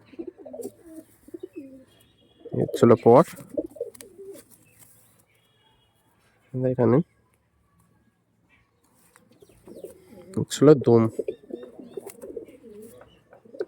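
Pigeons of breeds such as Star Kalanka, Andhra and Dasur coo in soft, throaty bursts that come and go, near and clear, with someone talking between and over them.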